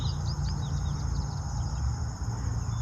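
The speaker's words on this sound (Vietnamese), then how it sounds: "mình quay để quý vị nghe tiếng con chim họa mi của mình nó hót nha" A hwamei songbird sings in a garden of blooming phlox, a few quick, faint chirps coming early over a steady background hiss and low hum.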